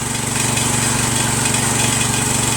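A Cub Cadet garden tractor with a 13 HP Kohler horizontal CH13S engine idles steadily close by, a continuous even mechanical drone with a low rhythmic pulse and no talking.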